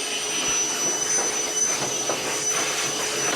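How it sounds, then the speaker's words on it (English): A vacuum cleaner runs steadily with a loud, high whine and airy roar, working in a garage around a 1958 VW Beetle during a front air ride install, continuous and close. "Vincent's gonna give that a quick vacuum again."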